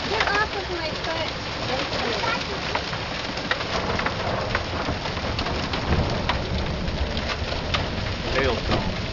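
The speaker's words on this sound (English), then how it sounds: "that's not snow, that's hail on the ground there" Hail pours down hard and continuously during a hailstorm, a dense crackling patter of stones striking the ground and surfaces close by, with scattered sharper impacts throughout.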